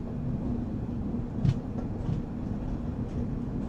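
A passenger train on the Chennai to Bengaluru Superfast Mail run gives a steady, loud rumble with a low drone, a faint clack near the middle, heard from aboard with no talking.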